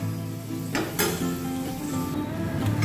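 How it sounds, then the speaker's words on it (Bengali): Sattu-stuffed flatbread fries in a pan with a steady close sizzle, marked by a few sharp scrapes and clatters of utensil against the pan, with no speech. "লাল লাল করে ভেজে নিয়েছি, গন্ধ বেরোবে কিন্তু"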